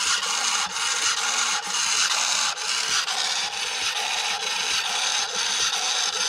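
The servo on a Losi 3XL-E RC truck makes a noisy, continuous grinding whine of repeating rasping cycles, close up and with no talk.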